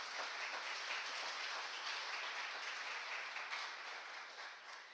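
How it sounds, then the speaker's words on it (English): Sustained audience applause at an ASPO fireside chat event, thanking the organizing staff: a dense, steady wash of many hands clapping for about five seconds, easing slightly at the end. "Let's give them a round of applause"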